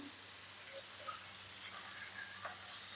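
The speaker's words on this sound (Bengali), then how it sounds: "পটলটা লাল লাল করে ভেজে নেব" Pointed gourd (potol) fries in oil with salt and turmeric, giving a soft, steady sizzle with a few faint crackles and stirring scrapes. It sounds quiet and close, with no voices.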